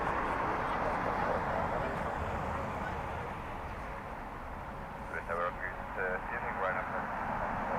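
An airliner in retro livery arrives from Lanzarote at windy Dublin Airport, its jet engine roar a steady broad rumble under wind, with someone talking over it.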